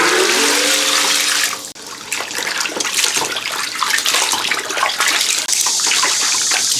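Tap water runs and splashes steadily while four lamb tails and half a lamb spine are rinsed in a basin, a continuous gushing wash with brief pauses.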